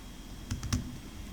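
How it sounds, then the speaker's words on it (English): Subtitle text is typed on a computer keyboard, a short burst of three or four close, crisp key clicks over quiet room noise. "in the subtitle placeholder we will type careers and employment service"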